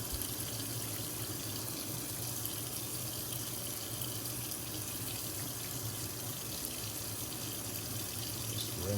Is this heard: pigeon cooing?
no